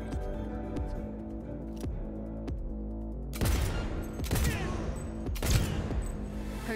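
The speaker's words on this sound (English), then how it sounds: "Heard shots." Gunfire in the video game Cyberpunk 2077: a few scattered single shots, then several loud, sharp bursts of rapid fire ring out over a low, steady backdrop, with no speech heard.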